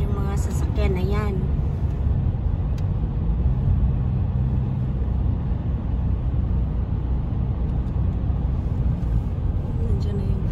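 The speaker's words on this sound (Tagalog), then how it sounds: "Galing yung ferry, yung mga sasakyan na yan." Vehicles driving off a ferry at Deer Island Lake make a continuous low rumble of engines and road noise, with a voice briefly speaking near the start.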